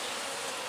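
Honey bees buzzing inside a hive box, a brief steady close drone with no pauses.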